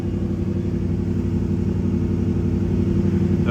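A 2008 Jeep SRT engine runs with a steady, loud, continuous low rumble and no clear rise or fall in pitch, heard close up and alone without any talk.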